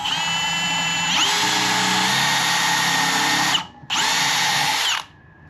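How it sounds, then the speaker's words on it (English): A power drill spins up and bores a pocket hole through hardwood held in a Kreg 320 jig, running in a loud whine that stops briefly, then starts again for a second short burst. "you want to pull the drill bit back out and just try again"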